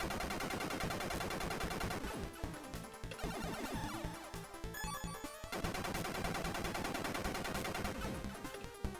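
Rapid retro gunfire from the video game SD Snatcher rattles on continuously over dense, busy game audio with no voices, its volume staying steady across the whole stretch.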